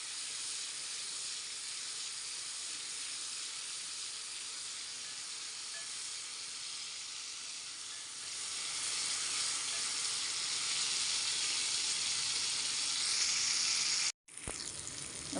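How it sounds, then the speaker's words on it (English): Turkey berries sautéing in a pan give a steady loud sizzle and hiss that swells louder partway through, broken once by a brief dropout near the end. "We saute this till it is tender and soft."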